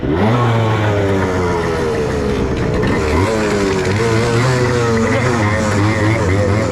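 A motorbike engine at a Le Mans-style race start revs loudly and close, pitch rising and falling in steady waves, with other engines droning beneath throughout.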